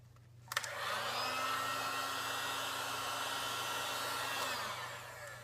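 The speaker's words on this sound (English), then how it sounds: "what I'm going to do is hit it gently with the heat gun" Heat gun gently warming the ram's head emblem on a 2001 Dodge Ram: a click as it switches on, then a steady, close blowing whine with a low fan hum that holds for about four seconds before shutting off.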